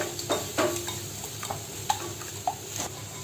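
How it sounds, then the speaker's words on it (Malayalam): Two eggs whisked until frothy in a bowl for a Kerala egg and drumstick thoran, with light rhythmic clinks and stirring taps of the whisk against the bowl, fairly quiet and close. "അപ്പോൾ ഇനി മുട്ടയൊന്ന് ഞാൻ ഒന്ന് കലക്കിയെടുക്കുകയാണ്"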